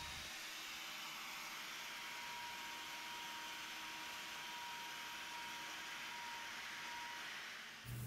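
An angle grinder cutting into a cracked wall, a steady high whine with a constant tonal hum running continuously for about eight seconds before cutting off abruptly.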